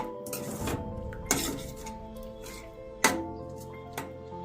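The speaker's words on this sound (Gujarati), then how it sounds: "આપણી ગ્રેવી રૂમ ટેમ્પરેચર ઉપર આવી ગઈ છે તો આપણે એમાં હવે દહીં એડ કરી દઈશું। હવે તેને સારી રીતે મિક્સ કરી લઈશું।" A spoon stirs yogurt into a masala gravy in a metal pan, producing soft scraping and a few clear clinks against the pan's side, close and alone.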